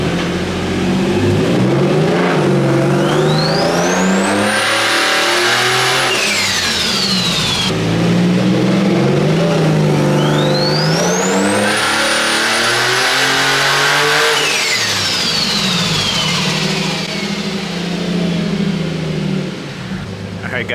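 A swapped-engine Nissan S15 on a dyno screams through two long full-throttle pulls, rising steadily in pitch, briefly holding near redline and then dropping away, loud and close.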